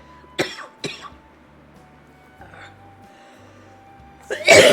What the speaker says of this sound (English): I'm just gonna end up coughing now.